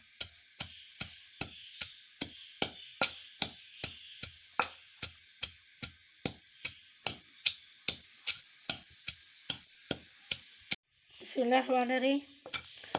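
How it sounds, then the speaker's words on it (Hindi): Pomegranate seeds and onion pounded in a mortar with a pestle: steady rhythmic strikes, roughly two per second, close and clear, then a short burst of busy kitchen noise at the end. "पहले अनारदाने और प्याज को कुंडी और सोटे में पीस लेंगे अच्छी तरह।"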